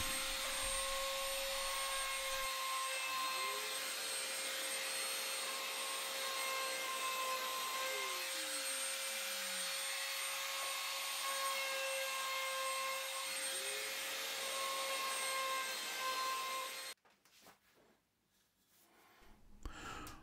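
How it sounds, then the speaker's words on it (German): A power tool chamfers the edge of a drilled hole in a wooden tealight candle holder, a loud steady motor whine with the pitch dipping and recovering under load, then cutting off abruptly near the end. "Die Bohrung bekommt von mir auch eine Phase"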